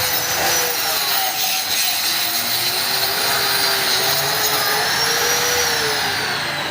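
A grinder cutting through a soft hollow concrete block: a loud, continuous whining and grinding roar with a rising and falling tone, steady throughout with no talking.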